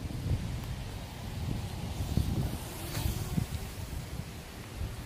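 Outdoor wind in a park blows as a steady, moderately loud rushing and buffeting across the microphone, with a low rumble and a few gusty swells and no speech.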